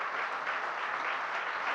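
Audience applauding at a Jain religious discourse, honouring a donor's sacrifice; steady, dense clapping from a large crowd fills the whole stretch without a break.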